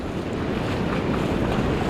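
Surf breaking over a sandbar on the Oregon coast on a bright day, a steady, dense roar of waves and water wash with wind buffeting the microphone, continuous and close, with no voices.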